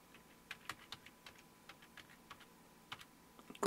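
Password being typed on a Compaq CQ45 laptop keyboard: a quiet run of light, irregular key clicks with short pauses, ending in a slightly louder keystroke, no voices.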